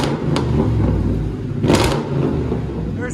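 A Mercury Grand Marquis 4.6L V8 revs through its exhaust nearby, a loud deep rumble swelling into a throaty burst midway and settling back to a steady idle growl.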